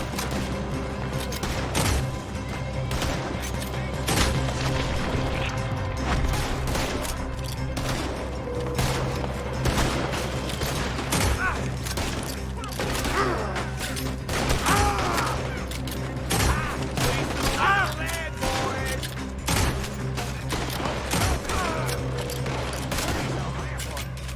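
Dense, continuous gunfire fills a Red Dead Redemption 2 shootout during the Sheriff of Rhodes mission, volleys of rifle and pistol shots cracking steadily at close range over a busy, loud battle din, with voices shouting in the mix.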